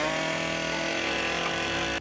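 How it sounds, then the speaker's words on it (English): A chainsaw engine runs loud and steady at high revs on a horror film set, a continuous buzzing roar that cuts off abruptly at the end. "Just listening to the chainsaw is terrifying."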